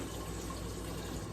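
Continuous rushing water pours steadily into a cooking pot holding potatoes and onions, a faint, even gurgling flow with no voices.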